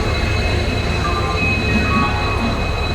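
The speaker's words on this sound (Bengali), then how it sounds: "এই মুহূর্তে তোমরা দেখতেই পাচ্ছ হাওড়া এসএমবিপি এক্সপ্রেস ঢুকছে" The SMVB Express rolls into Howrah station in India, a loud, steady rumble of train wheels and carriages with faint tonal hums and an occasional soft squeal, continuous throughout.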